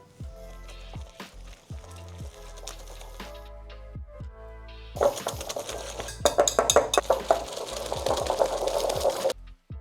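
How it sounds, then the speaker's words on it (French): A utensil works softened butter, icing sugar, salt, almond powder and egg together in a bowl, first with spaced, rhythmic clinks and taps, then with faster, louder scraping and clattering. "Et on va mélanger jusqu'à ce que l'appareil soit entièrement homogène."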